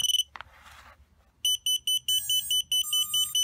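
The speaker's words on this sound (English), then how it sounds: "Because this switch is on, the buzzer is activated." A quadcopter's arming-switch buzzer on a 120mm brushless FPV racer DIY kit sounds a rapid series of sharp, high, evenly spaced beeps, loud and close in an otherwise quiet room.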